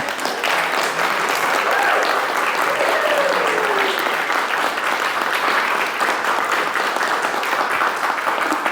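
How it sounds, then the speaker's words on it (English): Audience applause fills a workshop hall at a genealogy event, a dense, steady clapping that holds at an even level for several seconds with no talk over it. "I'll give a big round of applause to Jimmy."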